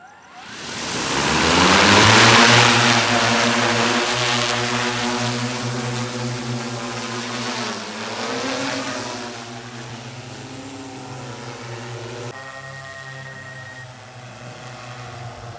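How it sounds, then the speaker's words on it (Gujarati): An agricultural drone spraying pesticide over a field at night gives a loud buzzing propeller whine that swells close overhead, then slowly recedes and fades to a fainter steady hum. "ડ્રોને એનું કામ શરૂ કરી દીધું છે"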